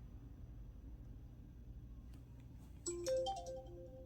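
A phone ringtone for an incoming call breaks in suddenly near the end, a bright repeating melodic tone, loud and close over a low steady room rumble.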